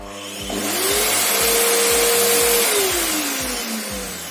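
An LG 1800W vacuum cleaner with a faulty cord runs with its motor cutting in and out in a rapid, regular stutter, whining up in pitch and holding steady before winding down, loud and close with no talking.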